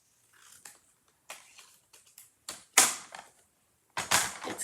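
Paper is hand-cut for a journal, giving crisp, irregular snips and rustles close up that grow louder toward the end, with no talking.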